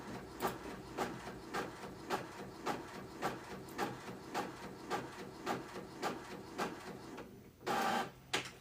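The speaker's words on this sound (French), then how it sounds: "Je vais l'imprimer en 2 fois." A printer prints a page, clacking in a steady, regular rhythm of close mechanical strokes, then finishing with a louder whirring feed near the end.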